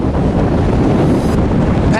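Cold wind buffets the microphone in Wyoming wilderness backcountry, a loud steady roar of gusting noise throughout.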